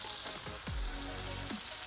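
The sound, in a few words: vegetables sautéing in a pan for chicken shawarma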